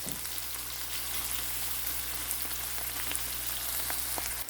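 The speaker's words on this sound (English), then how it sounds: "Saute our spices maybe for 1 minute until that can be slightly golden brown, until fragrant or translucent" Onions and chopped garlic sauté in a hot pan with a steady, close crackling sizzle that continues evenly for several seconds under a faint low hum, with no talking.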